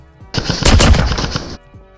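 A short burst of rapid, crackling hit-marker sound effects from airsoft gameplay lasts about a second and stops abruptly, loud and punchy.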